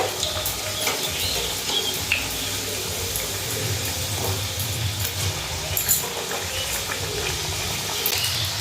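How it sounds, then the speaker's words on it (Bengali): Semolina pitha frying in hot oil in a village kitchen, a steady dense sizzle and bubbling that runs continuously throughout, close and moderately loud, with faint stirring and no talk. "দেখো কি সুন্দর দিতে দিতে তেলের মধ্যে ফুলে যাচ্ছে"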